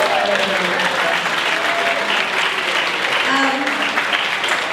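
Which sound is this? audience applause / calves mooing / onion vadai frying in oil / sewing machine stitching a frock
audience applause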